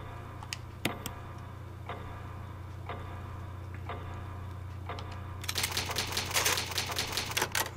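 Keys of an old typewriter clack one at a time in a slow, spaced rhythm in a Resident Evil HD save scene, then break into a quick, dense burst of rapid typing.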